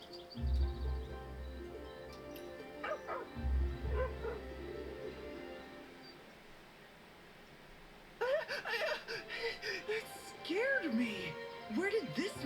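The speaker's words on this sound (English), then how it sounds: "Where did this mangy dog come from?" A dog barks and yips in the video game Where Winds Meet, with low thumping bursts early on and a later stretch of yelping, whimpering calls, mixed with game ambience and a talking voice.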